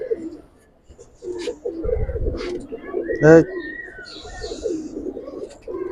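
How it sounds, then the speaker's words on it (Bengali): Giribaz pigeons in a loft give repeated soft, throaty coos close by, with a steady murmur of voices and movement around them. "এটি আমার কালেকশনের কবুতর"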